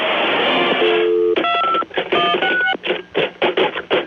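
Touch-tone telephone dialing beeps in a radio advert, a rapid run of distinct loud tones following a burst of broadband noise, the tones spaced irregularly like a number being keyed.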